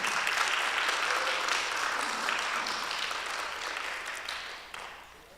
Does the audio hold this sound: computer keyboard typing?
no